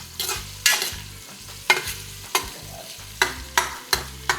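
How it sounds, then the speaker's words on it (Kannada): Onions and spices fry in a pan while being stirred by hand, a steady sizzle punctuated by repeated scraping strokes at an irregular rhythm, close and clear with no talking. "ಈರುಳ್ಳಿ ಕೆಂಪಾಗೋ ತನಕ ಕೈಯಲ್ಲಿ ಅಡಿಸ್ಕೋಬೇಕು"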